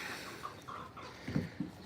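Backyard chickens, kept alongside goats, geese and a kangaroo, give a few soft, close clucks and short low calls over quiet outdoor background noise.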